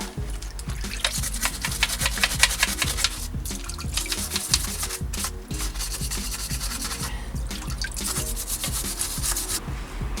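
A brass brush scrubs small vintage 1969 BSA Bermuda bicycle parts in continuous, rapid, gritty strokes up close, with a few brief pauses and a faint wet edge.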